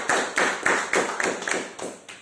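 An audience at a Sunday morning speakers forum claps in a regular rhythm, about eight loud, evenly spaced bursts close by, with no talking.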